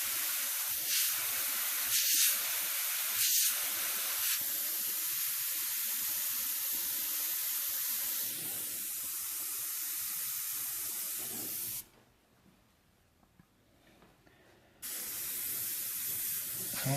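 An airbrush sprays paint onto a realistic skull, a soft continuous hiss in steady passes with a few short bursts early on, then a brief pause before spraying resumes.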